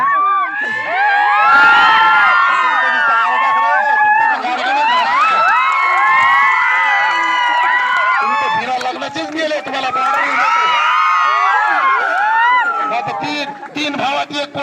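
A school audience of children claps and cheers loudly and continuously, with excited shouts and whoops rising over steady applause throughout.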